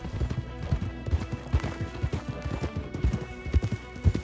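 Horses trotting in the Western video game Red Dead Redemption 2, with irregular clip-clop hoofbeats close by and a brief whinny, no talk over them.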